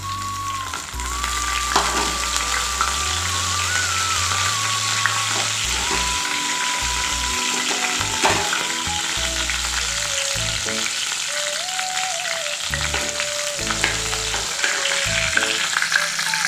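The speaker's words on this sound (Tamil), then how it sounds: "இப்போ நம்ம தேவையான பொருளை நம்ம எண்ணெயில் சேர்த்து வதக்கலாங்க" Ingredients sizzle and fry steadily in hot oil in a pan while cauliflower gravy is being made, with a dense, continuous crackle and occasional stirring clinks close by and no talking.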